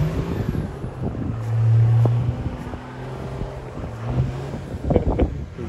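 A vehicle spinning donuts on a frozen lake, its engine droning and rising in pitch with revving surges, heard from a little distance amid gusting wind noise on the microphone.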